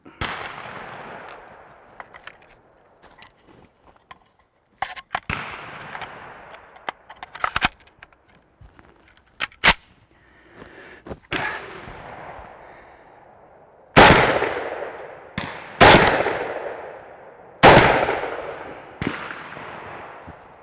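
A Century Arms SAS 12 12-gauge semi-automatic shotgun firing outdoors: a string of loud, sharp blasts spaced one to two seconds apart, each with a ringing decay, after quieter handling clicks and clacks.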